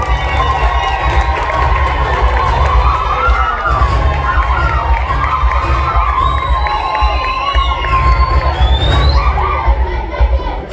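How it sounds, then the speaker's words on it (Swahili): A lively crowd at a comedy show roars with shouting and cheering, loud and sustained throughout, with overlapping excited voices and little break in the noise. "Makofi, makofi,"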